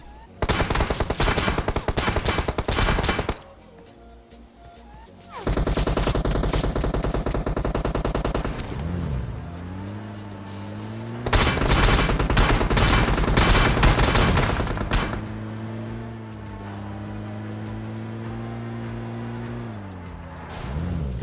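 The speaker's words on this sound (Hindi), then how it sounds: "मेरे ऊपर दो बंदों का फायर आया था, एक आगे से आया था और पीछे की साइड से भी एक बंदे ने फायर लिया था" Automatic rifle fire in a battle royale shooter as two enemies shoot from front and behind, loud rapid bursts with pauses, mixed with a revving vehicle engine.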